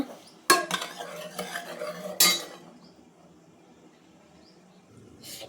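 Cooked ridge gourd tipped into a pot of sambar and stirred, with a sharp metal clank, a spell of scraping and stirring, then another clank before the sound fades to faint kitchen quiet.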